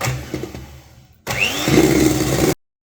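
Electric mixer beating melted unsalted butter into plum cake batter, starting abruptly after a quieter stretch and running as a steady loud whirring motor, then cutting off cleanly.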